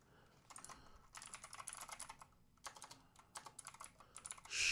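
Quick, quiet typing on a computer keyboard in bursts of rapid clicks with short pauses between, close up and with no talking.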